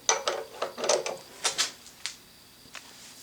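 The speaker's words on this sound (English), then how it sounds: "Then tighten the vise down" A machinist vise in a toolmaker's shop being cranked tight, giving a run of sharp ratcheting clicks and metallic clacks, fairly close and clear, that thin out into a few scattered ticks.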